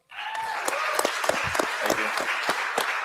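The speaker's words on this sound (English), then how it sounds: "Let's give him a round of applause." Audience at a merchant-services panel discussion applauding a speaker: a crowd's clapping starts abruptly and keeps going as a dense, crackling patter with distinct sharp claps standing out near the listener.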